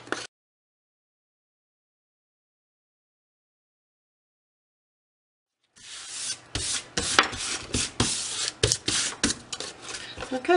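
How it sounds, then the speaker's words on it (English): A distressing tool scrapes along the edges of canvas scrapbook covers in a burst of rough, rasping strokes after a long stretch of silence, close and fairly loud, with no talking. "I distressed the edges to match on all of these."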